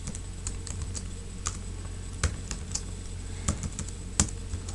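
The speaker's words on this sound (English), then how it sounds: "and just type" Close keystrokes on a computer keyboard come as scattered, irregular clicks with a few sharper taps standing out, typing into a math equation solver program over a quiet background.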